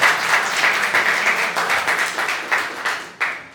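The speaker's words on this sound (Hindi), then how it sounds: "अच्छा हुआ कि आपने पहले ताली बजा दी" An audience claps at a poetry recital, a dense, sustained round of applause filling the hall with rapid overlapping claps that swell and recede in waves, with a few sharper bursts near the end.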